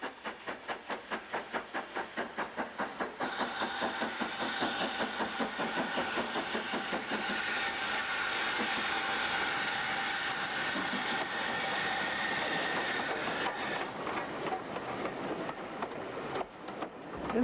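Steam locomotive Odney Manor on the West Somerset Railway, loud and close: a steady rhythmic chuffing beat that settles into a continuous broad hiss of steam and running gear, with no voices.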